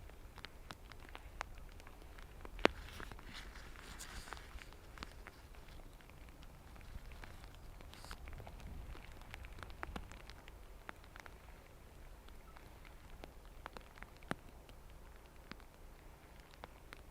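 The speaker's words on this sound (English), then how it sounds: "I can see each ping of the rain on the sound meter in front of me" Rain at an airport plane-spotting spot in Dublin, faint scattered pings and patter of drops at close range, irregular and quiet over a low background rumble, with no speech.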